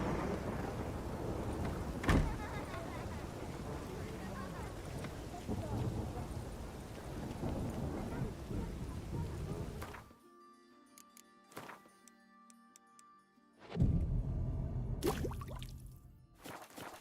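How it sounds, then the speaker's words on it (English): Rain and thunder in The Witcher 3: Wild Hunt, a dense rushing downpour with an early thunder crack, dropping out briefly midway before a loud rumble returns along with the rain. "It just rains and rains."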